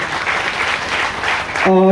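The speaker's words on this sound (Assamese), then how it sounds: "মই সকলো ছাত্ৰ ছাত্ৰীকে নিজৰ বাবে এজনী হাত চাপৰি মই এই চেগত মই বিচাৰিছোঁ" Students clapping together in a crowd, a steady dense patter of applause at close range that carries on for nearly two seconds before a voice cuts in at the end.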